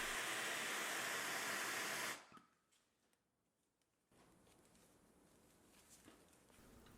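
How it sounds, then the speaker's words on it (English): Silver soldering a hinge on a model Pennsylvania A3 switcher with a torch: a loud, steady roaring hiss of the flame for about two seconds, cutting off abruptly, followed by quiet and then a soft, faint background hiss. "I'm going to solder one of the hinges in place using those screws to hold it during the operation"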